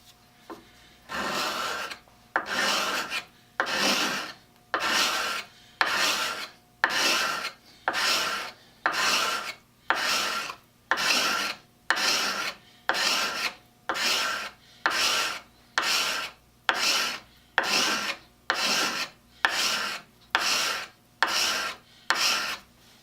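A file rasps rhythmically across the blade of a Stanley #12, #80 or #81 scraper plane during sharpening, giving about twenty steady back-and-forth strokes with short regular gaps, close and even in loudness, with no talk.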